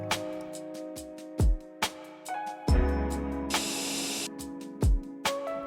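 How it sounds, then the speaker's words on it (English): An airbrush sprays metallic paint onto Space Marine miniatures, giving a loud, close hiss lasting about a second and a half amid several short puffs and clicks of handling. "There is no reason to do this if you just clean your airbrush properly."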